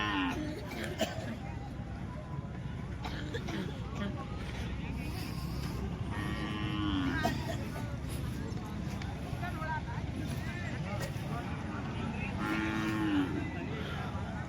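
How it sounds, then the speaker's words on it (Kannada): Cattle moo again and again at a night livestock fair held for the Shri Manikya Prabhu festival in Aigali village, Athani taluk. Some calls are near and some far, over constant crowd babble and people talking. "ದನಗಳ ಜಾತ್ರೆ ವರ್ಷ ನಡೆಯುತ್ತಿ ನೋಡ್ರಿ ರಾತ್ರಿ ಹಿಂಗ ಈ ರೀತಿ"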